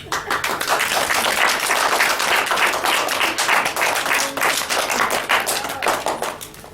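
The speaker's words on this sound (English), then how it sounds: "We can clap for them, guys." Sustained, brisk clapping from a school audience after a poetry recital, loud and evenly packed with individual hand claps throughout, with no talking.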